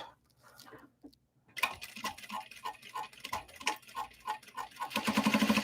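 A sewing machine stitches a wallet flap made from obi and kimono fabric, back-stitching in a quick, regular ticking rhythm after a quiet start, then speeding into a denser whir near the end.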